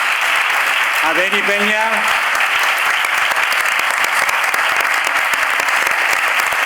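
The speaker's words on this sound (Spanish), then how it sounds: "Y despedimos con un fuerte aplauso" Loud, continuous applause from a carnival conference audience fills the hall, steady and dense throughout, while a voice briefly speaks over it near the start.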